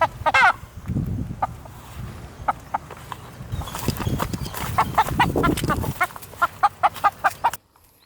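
Country chickens cluck and squawk in bursts while being chased, amid scuffling footsteps and rustling, with repeated sharp calls toward the end before everything stops abruptly.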